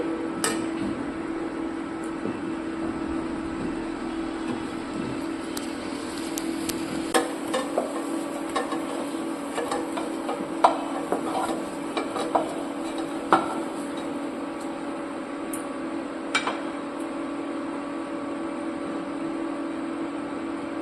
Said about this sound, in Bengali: আলুটা ভালো করে ভেজে নিতে হবে লাল করে।